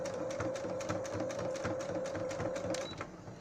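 Sewing machine stitching over gathered fabric, a steady fast mechanical whir with rapid regular needle clicks, close and moderately quiet, slowing briefly near the end, with no talk.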